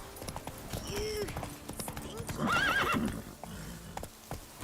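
Roach, a horse in Witcher 3, clip-clops with rapid hoofbeats and lets out a clear neigh, with a voice talking over the hooves.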